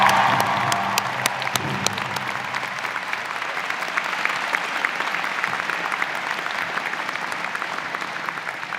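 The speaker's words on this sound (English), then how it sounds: "Would everyone please join me again for a round of applause for these remarkable people?" A large crowd at a university convocation ceremony applauds steadily, dense clapping filling the space, with a few louder claps and faint cheers early on, sustained without a break.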